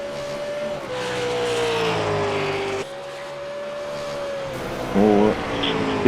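Race car in a racing video game at Monza drifting, its engine holding a steady high drone, dipping as revs change, then a short squealing skid near the end.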